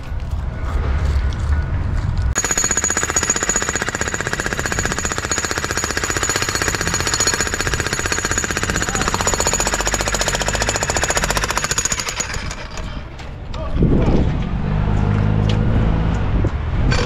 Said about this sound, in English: Once we get the rest of this concrete torn out of here